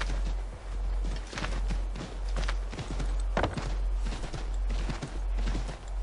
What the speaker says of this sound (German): Ja, ah, Pferd!